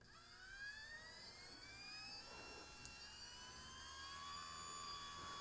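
An RC helicopter's main rotor and motor spool up on a bench with the tail rotor disconnected, running unloaded: a steady whining tone rising gradually in pitch over several seconds, fairly close and alone.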